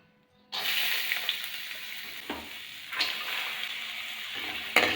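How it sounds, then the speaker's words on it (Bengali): Khesari dal being lightly fried in oil in a kadai, a steady close sizzle that starts suddenly and holds, with a few sharp clinks and scrapes over it. "খেসারির ডালটা হালকা করে ভেজে নেব, সব মশলা দিয়ে ভেজে তারপর আমি প্রেসার কুকারে দেব।"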